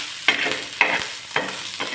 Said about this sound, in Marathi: कांदा पण माझा छान भाजत आला आहे.